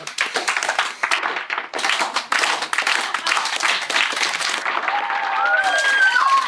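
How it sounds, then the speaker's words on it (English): A film crew claps on a making-of set for the Suburban Knights shoot. The clapping is uneven and moderately loud, with short gaps, and fades out near the end under some faint squeaky tones. "Slow clap."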